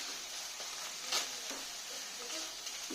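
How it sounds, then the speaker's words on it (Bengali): Spice paste with ground chilli and green chilli paste frying in a pan for a pomfret mustard-poppy curry, a faint, steady sizzle with a brief louder stir, heard alone without talk. "আমি মশলাগুলো ভালো করে কষে নিয়েছি।"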